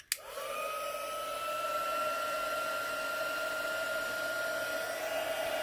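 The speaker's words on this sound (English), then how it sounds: "now I'm going to use a heat tool to speed dry this" A heat tool blows hot air over gesso on a Bible journaling page, a loud, steady whirring hum with a high whine that starts with a click and runs unbroken to the end, with no talking.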